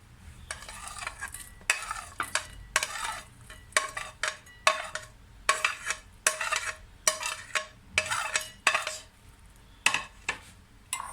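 Cooled potatoes and onions are scraped and tipped into a bowl, making a series of repeated close scraping and clattering bursts in an irregular rhythm over a quiet kitchen background.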